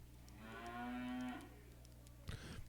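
A steer at a cattle auction lets out one long, close, resonant moo. Soft pen noise follows and a brief clatter near the end.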